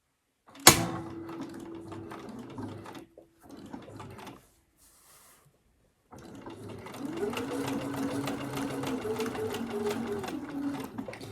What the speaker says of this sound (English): I'm just going to line up on the previous line of stitching that's here.